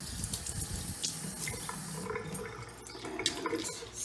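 Tap water runs at a kitchen sink in a steady, close splashing stream that lasts the whole stretch without speech.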